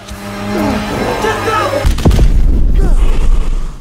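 In a zombie film, a gunshot sets off a heavy boom partway through, followed by a deep rumbling roar that lingers loudly to the end, with faint voices beforehand.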